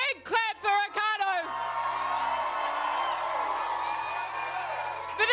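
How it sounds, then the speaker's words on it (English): An election-night crowd at a New Zealand general election gathering breaks into loud, sustained applause and cheering for a candidate, with whoops over the clapping, right after a short spoken introduction. "Give a big clap for Ricardo."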